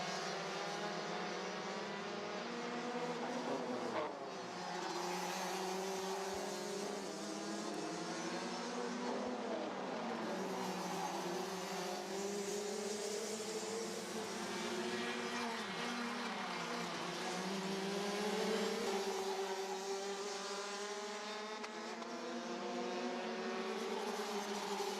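Race cars lapping a circuit at Kandava during a live race, engines droning loud and continuous with shifting pitch as several cars pass, a steady layered roar throughout.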